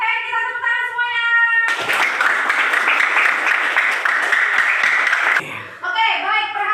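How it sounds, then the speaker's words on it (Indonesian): A classroom of children claps together in a burst of applause lasting several seconds, loud and close, framed by a teacher talking before and after. "kita tepuk tangan semuanya"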